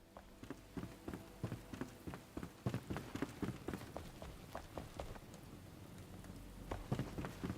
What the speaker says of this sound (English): Man, I can see nothing thanks to this rain and this weather.